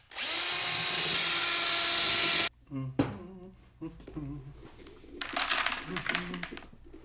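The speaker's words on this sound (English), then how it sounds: "This is called the pumpkin gutter. You stick it on the end of your drill." A power drill fitted with a pumpkin gutter attachment whirs loudly at high speed for a couple of seconds, then stops, followed by talking and scattered rustling.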